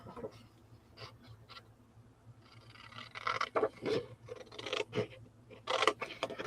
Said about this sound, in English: Now I'm just going to cut it out.